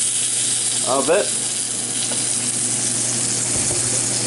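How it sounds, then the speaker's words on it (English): Oil sizzles steadily in a hot pan as it is deglazed with broth, with a burst of bubbling hiss near the start, while a person talks over it. "We're just deglazing the pan a little bit"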